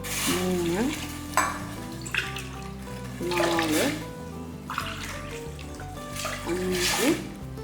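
Water pours and splashes into a cooking pot in several bursts, about five tumblers for fenugreek coconut-milk porridge, mixed with stirring and clatter over steady background noise.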